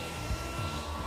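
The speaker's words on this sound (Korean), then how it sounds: "스테이지에 드라이기라니, 너무 올드하네요" A hair dryer blowing on a stage at a beauty pageant, a steady, loud broadband whoosh that continues unbroken throughout with no talking.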